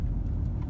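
A BMW E39 523i being driven gives a steady low engine and road rumble from inside the car, constant and fairly loud with no talking.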